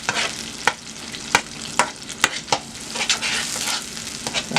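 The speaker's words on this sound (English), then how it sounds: "in that same oil, I'm going to fry my pepper, onions, and scallion. And I'm going to stir that" Pepper, onions and scallion sizzle and fry steadily in hot oil, with a spoon stirring through them in sharp, irregular scrapes and clicks close by; no voices.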